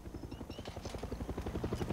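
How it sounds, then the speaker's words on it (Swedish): A helicopter in the video game Far Cry 6 thumps with fast, steady rotor beats, fairly close and continuous, with faint game sounds mixed in. "Helikopter."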